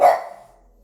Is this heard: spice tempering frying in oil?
no